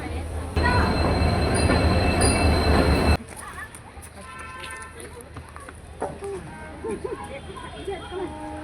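A loud, rushing train rumble with squealing wheels fills the first few seconds, then cuts off abruptly, leaving quieter station noise and people talking.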